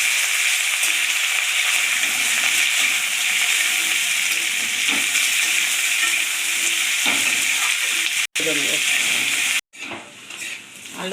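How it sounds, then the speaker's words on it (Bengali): Potatoes and onions frying in a pan for an oyster mushroom curry, a steady close sizzle with occasional stirring scrapes throughout, briefly cutting out near the end before resuming more quietly. "আলুটা পেঁয়াজটা ভালো করে ভেজে নিলাম"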